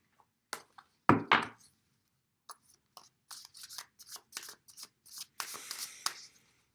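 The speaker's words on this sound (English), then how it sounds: "I'm shuffling again." A deck of cards is shuffled during a card reading, giving a loud riffle near the start followed by clusters of quick, crisp flicks and soft slaps. The sound is close and dry, with no talking.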